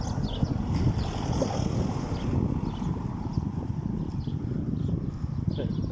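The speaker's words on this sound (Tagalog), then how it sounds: "May hangin." Gusty wind rushing across the microphone in rocky, treeless mountains near Mardin, Turkey, a steady low rumble with faint rustling and scattered light knocks.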